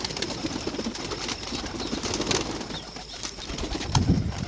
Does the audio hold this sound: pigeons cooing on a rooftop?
yes